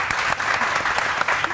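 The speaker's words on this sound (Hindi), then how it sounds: "लेकिन जी तालियां कौन बजाएगा?" A short burst of lively clapping from a small group on a morning television beauty segment, quick and even, fairly close and loud, with no speech over it.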